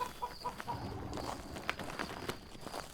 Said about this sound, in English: They left the chickens in the chicken coop.